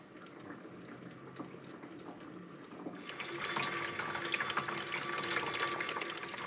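Coolant water drains from a 1930 Model A Ford, a soft trickle that swells after a few seconds into a steady, louder splashing pour nearby, with no voices.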